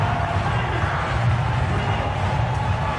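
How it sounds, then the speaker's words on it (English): A packed World Cup cricket crowd, many Indian fans among them, roars continuously at a one-day match between India and England, a loud, broad, unbroken wash of cheering noise. "Lots of noise, lots of Indians in the crowd."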